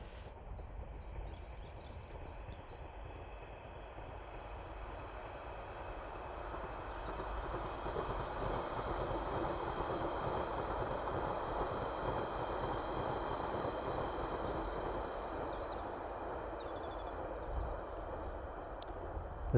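A passing train picked up by a mic attached to a DJI Mini 3 Pro drone outdoors: a steady, broad rumble and rush that slowly swells louder over about twenty seconds, with faint whistling drone tones above and no talking.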